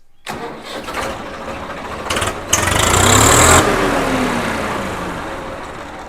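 A Swaraj 855 tractor's diesel engine cranks, catches, and roars loudly before settling into a steady, rumbling idle close by.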